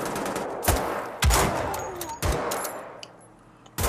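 Gunfire in the video game Wolfenstein: The Old Blood, three sharp, loud shots spaced about a second apart, each with a short echoing tail over faint background game ambience.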